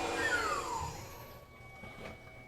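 A Tormach PCNC 1100 CNC mill is running, and its machine whine sweeps downward before settling into a quieter hum. The steady mechanical noise is close, with no talk.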